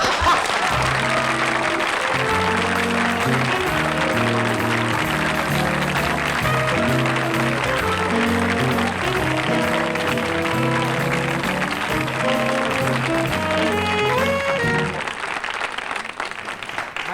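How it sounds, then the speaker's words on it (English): Studio audience applause on a television talk show greeting actor Leonard Nimoy, loud sustained clapping lasting over fifteen seconds with band music playing underneath before fading toward the end. "I don't want to stop your applause"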